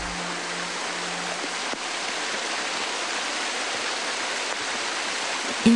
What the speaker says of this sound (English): Water gushing forth relentlessly from the cliff.